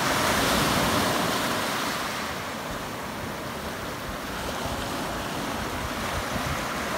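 Steady ocean surf washes and rumbles continuously, a broad hiss of breaking waves with no voices.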